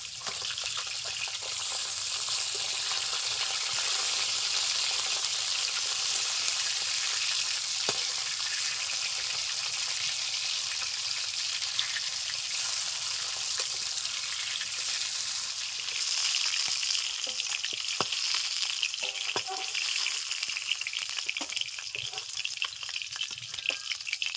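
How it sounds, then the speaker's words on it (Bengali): Fish fries gently in oil over medium heat, a steady close sizzle and crackle running throughout, with a few light stirring scrapes and no talking. "মিডিয়াম আছে আস্তে আস্তে মাছগুলো ভেজে নেবে"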